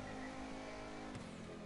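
A car revs its engine in GTA V, a steady droning exhaust tone that drops off sharply partway through, then carries on with a faint tire squeal.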